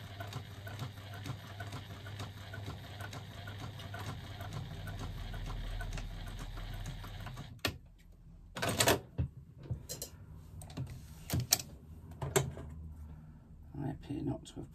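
A sewing machine running a couple of back stitches, a steady mechanical whir for several seconds that stops abruptly, followed by scattered clicks and knocks of handling the machine, with a voice speaking over it.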